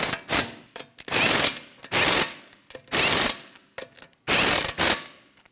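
A ratchet wrench snugging up lug nuts on a 2012-2016 Honda CR-V wheel, in five loud close bursts of rapid clicking separated by short pauses and light taps.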